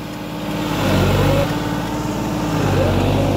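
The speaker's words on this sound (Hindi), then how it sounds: "अब ट्रैक्टर को पीछे लेके आ रहे हैं भाई," A tractor engine reverses in a wet paddy field during rice planting, a steady loud diesel drone with slight swells in revving throughout, close to the listener.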